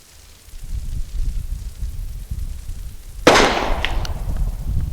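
A single sharp, loud report from a .44 Special handgun being fired during load testing at a 25-yard range cracks out after a few seconds of low rumbling background, followed by a brief trailing echo.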